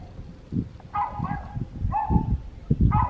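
A dog at home gives about three short, sharp barks spaced roughly a second apart. Softer thumps and rustling run underneath.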